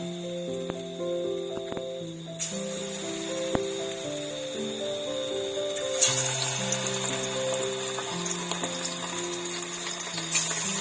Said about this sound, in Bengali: তেলটা গরম হয়ে এলে এবার এক এক করে মাশরুমগুলো ব্যাটার থেকে নিয়ে তেলের ওপর দিয়ে দিতে হবে